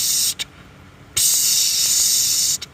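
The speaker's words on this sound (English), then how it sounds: "It's like a release valve for an air compressor." Air compressor release valve letting out bursts of steady high hiss, a brief puff then a longer sustained blast, moderately loud with no talk.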